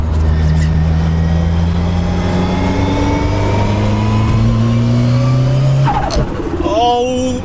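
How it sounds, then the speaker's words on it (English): A 500 bhp Cosworth-engined Ford Sierra estate accelerating hard from inside, a loud sustained engine note climbing through the revs with a gear change near the end, continuous and close. "Just enjoy the noises of this car."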